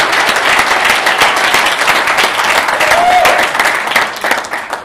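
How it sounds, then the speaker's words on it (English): An audience at a SharePoint Saturday tech event in Johannesburg gives Microsoft a sustained round of applause, dense clapping at full strength that begins to thin out and fade in the final second. "Round of applause for Microsoft"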